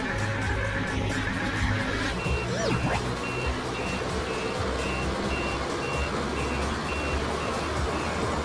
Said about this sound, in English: Sand truck, a dump truck that carries sand to construction sites.